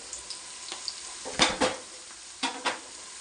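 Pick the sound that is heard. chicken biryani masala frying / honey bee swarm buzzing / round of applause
chicken biryani masala frying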